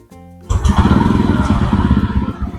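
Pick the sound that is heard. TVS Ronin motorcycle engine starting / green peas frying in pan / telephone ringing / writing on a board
TVS Ronin motorcycle engine starting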